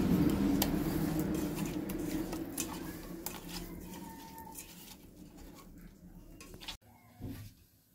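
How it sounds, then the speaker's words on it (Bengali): Raw rohu fish pieces being rubbed with salt and turmeric by hand in a bowl, giving soft, wet squelching and patting over a faint background rumble that fades out near the end. "মাছটা মেখে নিচ্ছি।"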